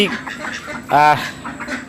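A large farm duck among a flock of over a hundred gives one loud, close quack amid softer calls, with someone talking over it.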